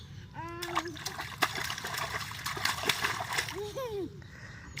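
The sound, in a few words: child swimming and splashing in water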